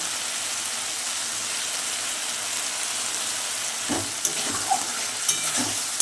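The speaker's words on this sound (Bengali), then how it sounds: "পরিমাণ মতো নুনটা দিয়ে ভালো করে মশলাগুলো নাড়াচাড়া করে নিচ্ছি যাতে না তলাটা ধরে যায়" Fried spice masala with salt stirred in a hot pan, a steady close sizzle running throughout, with a few spatula scrapes and knocks against the pan toward the end.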